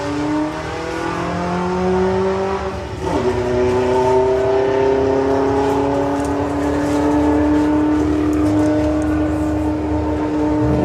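Volkswagen drag car at Santa Pod raceway, engine roaring steadily down the strip with rising harmonic tones and a brief dip around a gear change, loud and continuous throughout.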